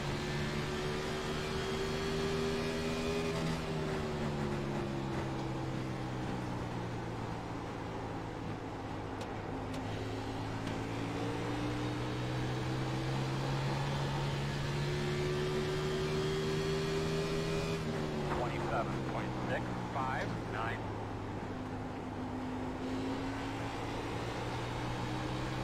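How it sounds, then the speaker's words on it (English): A race car engine in a racing video game at Phoenix, a continuous loud drone held near the rev limiter, the pitch rising and dipping with gear shifts and turns. "Peg that rev limiter."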